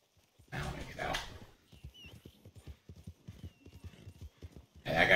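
Horse hooves clip-clopping in Red Dead Redemption 2, a steady trotting rhythm of close, sharp hoof knocks with a brief whinny-like sound and rustling, ending in a louder burst.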